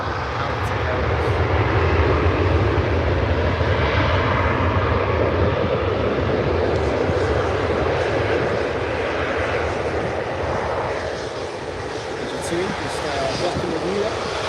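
An Emirates airliner powers up its jet engines at Birmingham airport, a loud, sustained roar filling the whole stretch, steady and broadband, with a person talking faintly over it.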